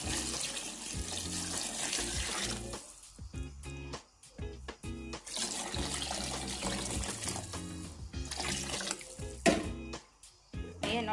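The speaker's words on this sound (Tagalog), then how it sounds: "Lagyan ko ng isang tabong" Running water from a dipper splashes and pours steadily into a cooking pot of chicken tinola, with a few brief pauses and clinks between bursts of flow.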